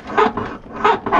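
A squeaking check strap on a Rover P4 car door gives two drawn-out, close squeaks, each rising and fading, with a short quiet gap between them.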